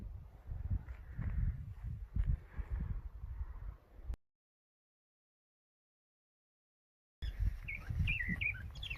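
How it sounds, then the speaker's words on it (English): Birds calling and chirping outdoors in a quiet desert among juniper, with short bright chirps over low wind and rustle in the first half, a gap of silence, then clearer chirps returning at the end. "Hear the birds."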